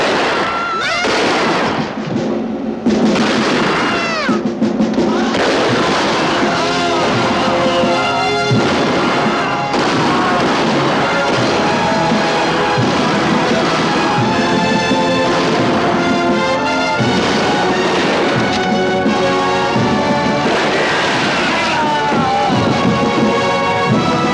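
Gunfire and explosions in a Hindi film action scene, loud bursts repeating through dense music and shouting voices, with dramatic orchestral sound filling the background.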